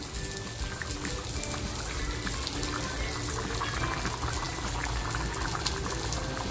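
Dried surmai fish curry with potato simmers in a pot, a steady close bubbling and boiling hiss that runs evenly throughout with no voices.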